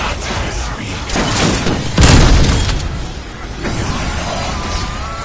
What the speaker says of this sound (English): War machine, nades out!